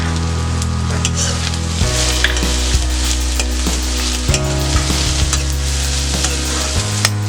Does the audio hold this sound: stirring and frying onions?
yes